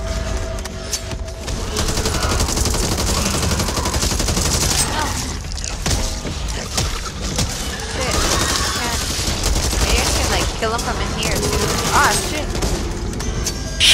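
Rapid bursts of gunfire in the zombie shooter Back 4 Blood, dense automatic fire and booms layered almost continuously, loud and close while players shout to each other over it.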